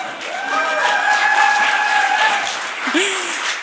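A live audience applauds at a talk show event, a sustained patter of many clapping hands at close range, with a brief voice or whoop rising near the end.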